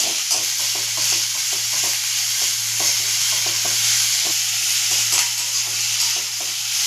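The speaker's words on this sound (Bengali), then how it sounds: "পেঁয়াজটাকে আমি বেশি লাল করে ভাজবো না, আমি হালকা করে ভেজে নেব।" Onion lightly fried in a pan, a continuous moderate sizzle with soft repeated stirring scrapes and a low steady hum behind it.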